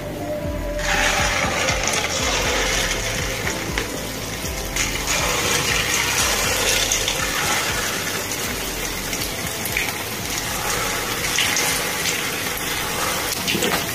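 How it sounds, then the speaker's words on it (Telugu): Rice flour bondas deep frying in hot oil make a loud, continuous hissing sizzle with dense bubbling crackle, steady and close throughout, with no talk. "బాగా కొంచెం ఎర్రగా ఉడికేంత వరకు వేపుకుందామండి ఆయిల్లో."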